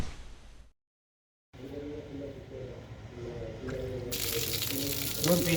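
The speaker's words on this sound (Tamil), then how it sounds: "அடுத்த வேலை மொட்டை மாடல குழாய் ஒழுகுது" Water runs from a leaking tap on a rooftop terrace, a steady splashing hiss that builds toward the end, with a brief silent gap early on and faint voices murmuring underneath.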